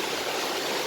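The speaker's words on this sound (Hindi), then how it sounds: "देखिए बारिश आ गई है बहुत तेज" Heavy rain pouring down during a Dussehra fair outing, a dense, steady hiss of falling water with no breaks.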